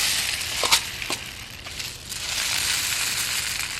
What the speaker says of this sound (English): I think I'm going to do the rice and the peas together.